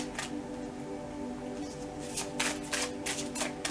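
Oracle cards being shuffled by hand: a quiet, close run of papery riffles and flicks, growing busier toward the end, with no talking.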